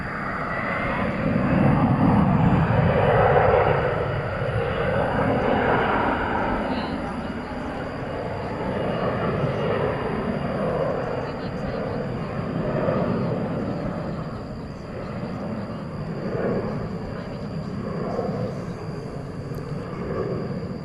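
A Turkish Airlines jet bound for Istanbul takes off at night from the west side of DFW Airport, a broad engine roar swelling early and then holding as a steady rumble, with a voice talking over it throughout.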